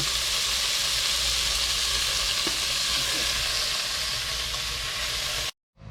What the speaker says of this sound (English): You want to get a good sear on it, just let it set there for a little bit.